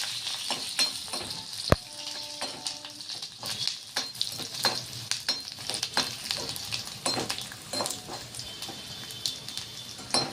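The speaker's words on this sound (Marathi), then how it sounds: "आणि हे लसूण टाकायचं यामध्ये। लसूण थोडा कलर येऊ द्यायचा लसणाला।" Garlic frying in a pan until it colours, a steady soft sizzle broken by regular scraping stirs and one sharp clink of a utensil near the start, heard close up.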